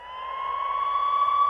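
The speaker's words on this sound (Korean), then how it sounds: "그렇죠. 앰뷸런스 소리입니다." An ambulance siren on a highway wails as a steady electronic tone, growing gradually louder as it draws nearer, with no other sounds around it.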